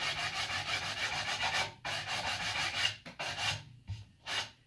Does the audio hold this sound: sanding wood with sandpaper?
yes